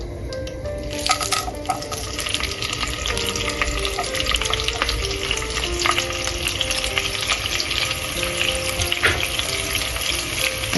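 Frying in melted ghee while cooking Mianwali dal, a steady close crackling sizzle with stirring scrapes and a faint running-water wash behind it, no voices.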